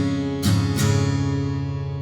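Acoustic-style guitar strumming the bridge chords of a song, two quick strums followed by the chord ringing out and slowly decaying, played alone.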